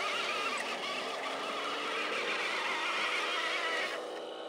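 A radio-controlled Bronco truck churns through mud, its electric motors whining in a dense, steady roar that holds loud and close for most of the stretch, then eases slightly near the end.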